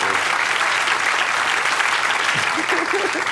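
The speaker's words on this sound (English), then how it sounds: "They applauded." An audience breaks into sustained, loud applause at an Emmy-themed gathering, dense and even throughout, with a brief voice surfacing near the end.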